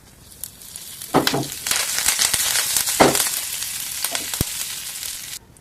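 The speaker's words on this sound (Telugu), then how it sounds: "జీలకర్ర ఒక స్పూన్ అయితే వేసుకోండి. బాగా వేగనివ్వండి." Cumin seeds and curry leaves fry in hot oil with a loud, close crackling sizzle and bursts of spitting and popping, with no voices.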